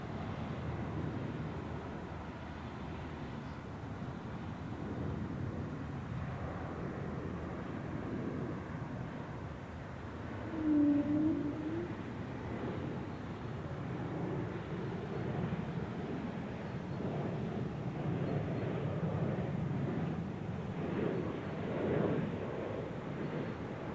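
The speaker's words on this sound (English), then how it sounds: "starting here with the Swiss A220-100 from, what is this, Copenhagen" A Swiss Airbus A220-100 inbound from Copenhagen arrives at Zurich Airport for runway 14 in calm wind, heard as a steady, fairly distant low jet rumble that holds throughout, with a brief whine swelling midway.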